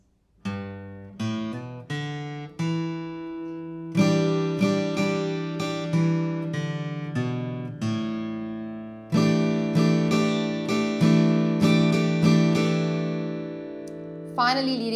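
Acoustic guitar picking and strumming the opening riff of a song, with clear, close single notes leading into fuller ringing strums, played alone without talk.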